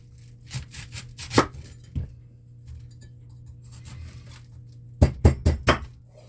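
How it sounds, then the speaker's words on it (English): Firm knife cuts through a cabbage on a board, a cluster of crisp chops early, a couple of isolated strokes, then four sharp, loud cuts in quick succession near the end, close and with no talking. "take our knife, slice it down the middle in half, and then into quarters"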